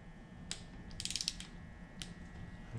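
An inch-pound torque wrench set low and clicking on a timing bolt of a Ford Mustang 4.6 2V engine, a few faint close ratchet clicks, including a quick cluster, in a quiet setting with no talking.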